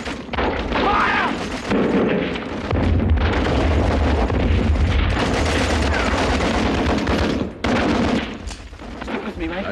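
Dense WW1 battle din of rapid rifle and machine-gun fire mixed with heavy explosions and booms, loud and continuous with brief dips, while voices shout under the barrage.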